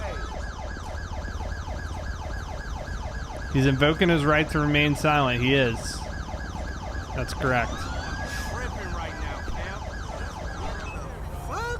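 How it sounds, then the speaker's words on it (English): A police car siren in the LSPDFR police video game wails steadily and loudly throughout, with a voice talking over it partway through. "Okay, that was my siren."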